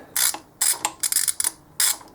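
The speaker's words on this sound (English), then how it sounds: "So now we just want to tighten up these two nuts." A ratchet tightens nuts on a pit bike engine, clicking in four or five short, sharp bursts up close, separated by brief pauses, with no talking.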